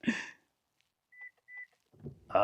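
Two short electronic beeps in a row, followed by a thud and rustling, like a car hatch being shut and locked.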